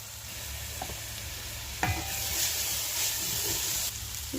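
Steady frying sizzle of onion, chili, garlic and onion paste in oil in a pan, with occasional stirring scrapes, close and moderately loud, no voices.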